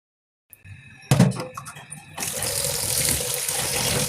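A kitchen tap turns on with a few clatters, then water gushes steadily into a sink while pabda fish are washed, the running stream loud and continuous to the end.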